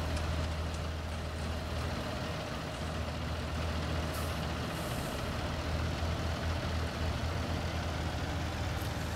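Steady diesel engine rumble of a truck unloading in Farming Simulator 19, a continuous low drone with mechanical hum and brief hissing bursts, loud and close with no talk.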